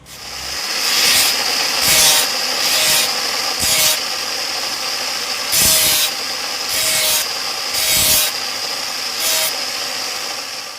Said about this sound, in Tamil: இதை வெளிப்பகுதியை கிரைண்டிங் பண்ணணும், இல்லைன்னா டிஸ்க் பேப்பருக்கு தேய்க்கணும்